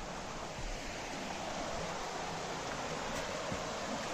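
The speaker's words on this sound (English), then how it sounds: "I decided to stop at the river, just like literally like a minute away from like the fresh spring here in Buena Vista" River flowing near a fresh spring in Buena Vista, a continuous broad rushing wash of water, close and steady with no voices.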